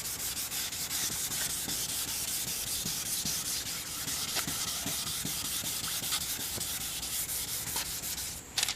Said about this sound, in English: The longer you sand with the 600 grit, the better result you will have